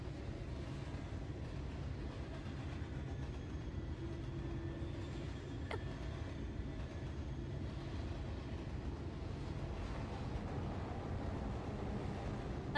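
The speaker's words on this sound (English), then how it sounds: "it sounds like we're passing by another train." A train passing by in the game Final Fantasy XIV produces a continuous low, heavy rumble with rhythmic rail clatter, holding steady throughout with a brief faint metallic ping midway.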